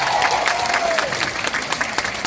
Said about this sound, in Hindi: एक बार जोरदार तालियां आप लोगों के लिए।